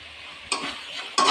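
Freshly grated coconut being stirred into a tomato curry in a pan: two short, bright scraping bursts over a soft steady sizzle, close and fairly quiet.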